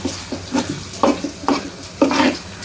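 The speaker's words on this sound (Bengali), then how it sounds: "আস্তে আস্তে জাল দিয়ে এটা ভাজবেন" Liver sizzling in a pan, with rhythmic scraping and stirring strokes recurring about every half second, close and fairly loud.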